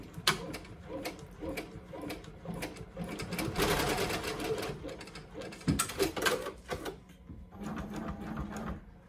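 A Ricoma EM1010 embroidery machine stitches steadily, with a fast mechanical clatter and needle ticking that swells and eases, close and moderately loud.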